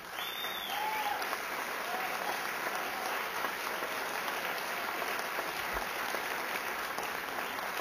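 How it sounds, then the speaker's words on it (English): Sustained applause from a ceremony audience honouring sponsors at the launch of the first American batik, a dense even wash of many hands clapping throughout with no break. "all rise up and so we can all give you a big round of applause"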